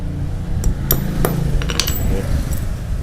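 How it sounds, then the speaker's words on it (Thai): A hammer taps a pin through a bicycle chain, giving about eight sharp metallic strikes in an irregular rhythm, close and clear over faint background noise. "แล้วตรงนี้วางไป ใช้ค้อนตอก"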